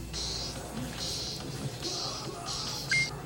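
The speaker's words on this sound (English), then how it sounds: "if you hear a bunch of arcade machines in the background" In an arcade, electronic game machines give off repeated high tones in bursts about once a second over a steady hum of room noise.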